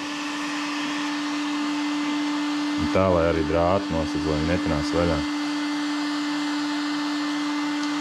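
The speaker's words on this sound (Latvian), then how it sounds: "Liekam šo fēnu, karsējam ciet." Heat gun shrinking a wrap over a handmade filter: a steady, whining airflow hum that runs throughout, with someone talking over it midway.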